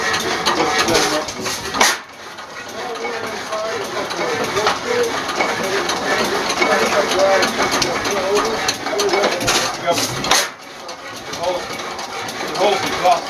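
A 22hp Fairbanks-Morse antique engine runs at a Meriden Antique Engine and Threshers Association show, its steady mechanical chugging continuous throughout, with people talking over it and two brief dips in the noise.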